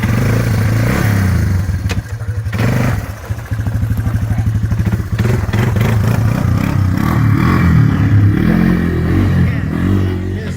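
A Yamaha Timberwolf four-wheeler ATV engine runs steadily nearby with a low chugging idle, a brief dip and restart-like stutter near the start, then a constant rumble with some clatter throughout.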